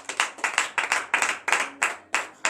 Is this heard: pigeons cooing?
no